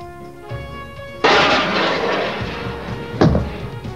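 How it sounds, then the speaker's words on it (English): A Pakistan Air Force all-weather Mirage fires a Sidewinder missile at a target: a sudden loud broadband roaring blast that rumbles on, then a second sharp burst about two seconds later. "Now you see the all-weather Mirage aircraft firing Sidewinder missile at the target."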